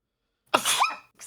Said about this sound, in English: they heard the cute variant of your sneeze